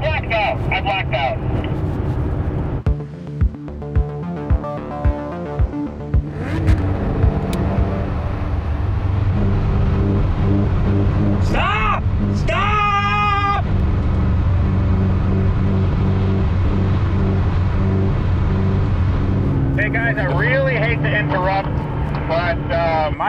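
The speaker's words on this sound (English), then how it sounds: "My car is surging." A cheap Ferrari's engine, running poorly, drones unevenly, its pitch surging up and down, with voices talking over it and a few sharp clicks early on.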